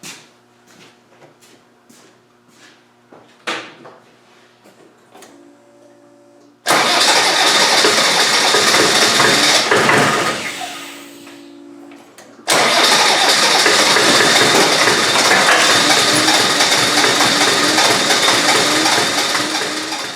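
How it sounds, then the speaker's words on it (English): Land Rover 200Tdi diesel engine with starting problems and loose injector pipes, first a few quiet clicks and clunks, then loud close cranking that fades, then a second burst of cranking that runs on steadily to the end. "I've cranked it over a little bit. I think it's going to start."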